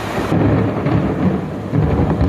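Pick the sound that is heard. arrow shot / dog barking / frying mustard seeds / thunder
thunder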